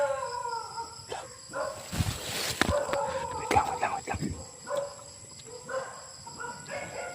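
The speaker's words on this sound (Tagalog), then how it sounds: "Nagkakahulan yung mga aso." Dogs bark and howl at a distance, several animals calling back and forth over an outdoor ambience with no talking.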